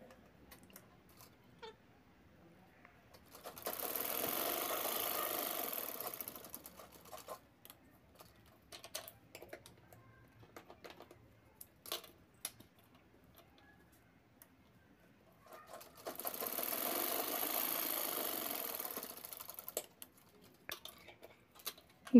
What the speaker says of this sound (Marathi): दोन्ही साईडची शिलाई करून घ्यायची आहे